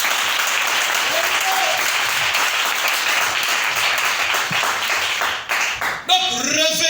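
A church congregation claps and applauds loudly and continuously during a worship service, a full dense roar of hands that tapers near the end as a preacher's voice returns.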